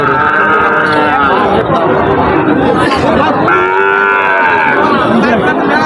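Cattle at a bull market selling Sahiwal, Gir and Brahman breed bulls, several loud close moos overlapping, with a steady hum of crowd chatter underneath.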